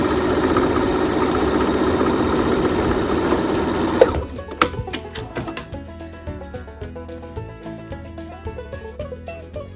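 A sewing machine stitches a fabric mask with batting inside, running in a loud, steady mechanical whir for about four seconds before stopping, followed by scattered light clicks and taps.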